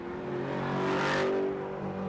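A loud Corvette C8 sports car engine roars past nearby, its tone swelling to a peak and then fading as it drives away.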